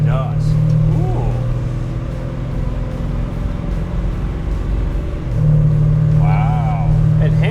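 A 1967 Chevy II Nova with a 327 small-block V8 and an upgraded automatic transmission drives by at close range, its engine rumbling steadily and revving up at the start and again near the end.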